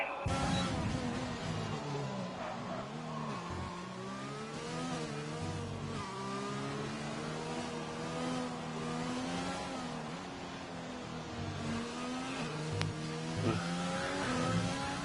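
An F3 race car in the iRacing video game revs hard on a hot lap, its engine pitch climbing and dropping through gear changes steadily and continuously, close and prominent.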